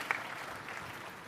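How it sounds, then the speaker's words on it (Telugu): An audience at a meeting chaired by Chief Minister Chandrababu Naidu claps for a girl, a short steady burst of applause sounding moderately close, without speech. "చప్పట్లు కొట్టి అభినందించండి"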